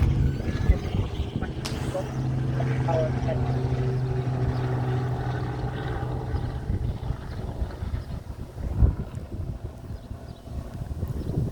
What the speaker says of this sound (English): There's a helicopter flying over the office.